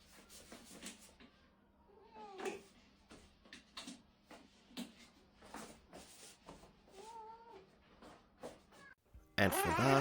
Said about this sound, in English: This cat doesn't like when their owner is taking them.